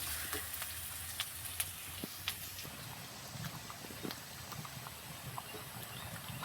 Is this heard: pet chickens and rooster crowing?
no